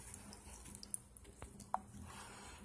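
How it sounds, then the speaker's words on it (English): Water drains and drips from a disconnected toilet supply line during a shut-off valve replacement, faint trickling with scattered close, distinct drips over a quiet background. "I'm just gonna let it drain."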